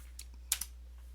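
A couple of crisp computer keyboard keystrokes tap out a number, brief and close, over a faint steady low hum.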